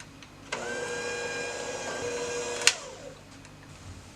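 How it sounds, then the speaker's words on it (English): An electric hand mixer beating pineapple upside down cake batter, a steady close motor whine that starts abruptly, runs about two seconds and stops with a sharp clack as it switches off. "We're going to get the mixer."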